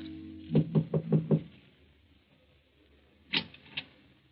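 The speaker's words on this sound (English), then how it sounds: "knocks at the door of number 16 Rue de Roche" Knocking at an apartment door in Paris, five quick, evenly spaced wooden raps, close and crisp, followed after a pause by two brief clicks like a latch or door opening.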